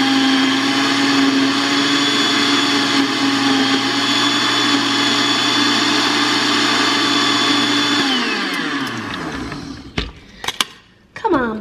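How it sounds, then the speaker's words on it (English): Home blender making a smoothie, a loud steady motor whir that runs for about eight seconds, then winds down and stops, followed by a few clunks and knocks. "I would love a blender where you don't have to do that."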